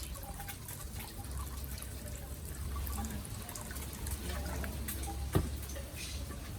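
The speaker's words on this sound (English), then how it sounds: "So it's the cassava they squeezing" Liquid drips and trickles from grated cassava squeezed in a woven matapi press in a backyard in Guyana during farine making, a faint, steady wet patter with one brief sharper knock near the end.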